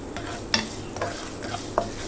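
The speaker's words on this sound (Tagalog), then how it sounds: "Gisa muna natin yung ating luya hanggang sa lumabas yung aroma ng ating luya" Ginger sautéing in a little hot cooking oil in a pan, a soft steady sizzle with a few light stirring scrapes and taps of a utensil, close and alone without talk.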